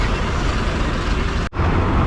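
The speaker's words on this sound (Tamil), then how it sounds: "இந்த ரெட் கலர் பஸ்ஸு கிளம்புது." A red bus starts to leave a bus stand on a Vagamon hills route, its loud engine roaring steadily and close, with a brief abrupt dropout partway through before the rumble resumes.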